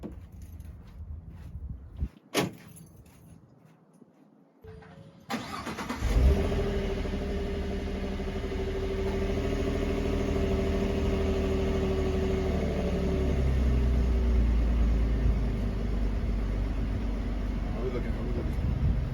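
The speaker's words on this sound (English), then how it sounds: "I'm gonna crank up the truck and hit the signal light and make sure that it's working" A 2015-2022 Ford F150 pickup engine cranks and catches after a few seconds of quiet handling noises and a sharp click, then settles into a loud, steady idle hum that runs to the end.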